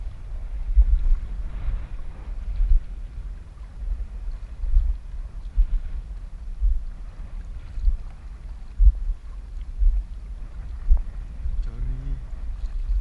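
Strong wind buffets the microphone while fishing from a boat at sea in rough, gusty conditions, a steady low roar with repeated heavier gusts swelling every second or two.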